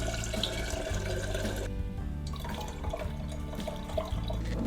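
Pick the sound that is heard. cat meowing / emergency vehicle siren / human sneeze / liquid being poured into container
liquid being poured into container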